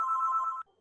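A telephone rings during an interview: one steady electronic ringtone burst, moderately loud, lasting just over half a second before cutting off into near silence.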